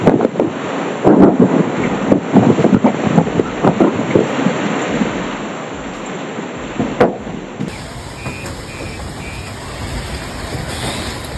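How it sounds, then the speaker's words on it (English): Strong gusting wind roars and buffets the microphone as it lifts a tent off the ground in Shanghai, loud and turbulent at first and then easing into a steadier rush. "What do you think is more frightening, the force of the wind or the objects being blown away?"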